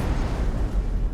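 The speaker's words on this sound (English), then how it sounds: "This is gonna be big. Explosion imminent." A ship explodes in the space game X4: Foundations, a loud, deep rumbling boom with broad noisy roar that fills the short moment without pause.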